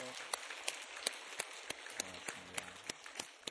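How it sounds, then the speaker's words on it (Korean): A church congregation gives an encouraging round of applause after a choir's hymn, sharp evenly spaced rhythmic claps in unison, fairly close, with a faint low voice underneath. "다시 한번 격려 박수 하겠습니다"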